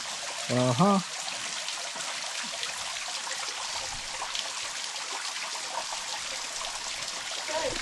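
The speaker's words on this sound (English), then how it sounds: "So this is what is left of what is supposed to be the falls." A steady, soft trickle of water from a nearly dry mountain waterfall runs throughout, with a brief voice or chirp near the start and a faint outdoor background.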